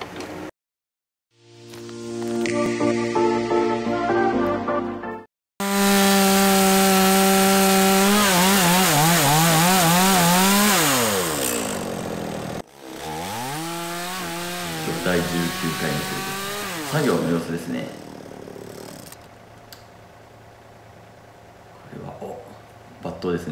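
A chainsaw cuts the undercut in a hinoki tree during forestry work, loud and close, revving up and bogging down with a brief drop before cutting resumes and then idles.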